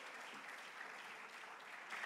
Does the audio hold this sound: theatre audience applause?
yes